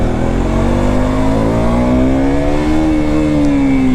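A KTM RC 200 motorcycle accelerates hard, its engine note climbing smoothly and continuously as revs rise, close and loud with no talking.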